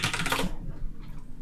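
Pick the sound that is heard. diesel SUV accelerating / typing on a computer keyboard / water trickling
typing on a computer keyboard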